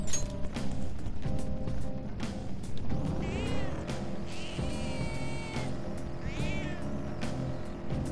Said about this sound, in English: Can you guys hear Morgana's meowing when I hit the touchpad?